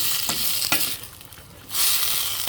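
Cabbage being sautéed and stirred in a pot for mixed bean soup with dried mushrooms, giving a steady close sizzle with brief utensil scrapes, easing off briefly before the frying hiss swells again.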